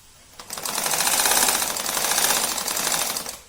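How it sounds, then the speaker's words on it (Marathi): A sewing machine runs at steady high speed for about three seconds, stitching a trouser waistband, with a loud, dense continuous rattle that starts abruptly and winds down at the end. "अशी संपूर्ण कमरपट्टी शिवून घ्यायची."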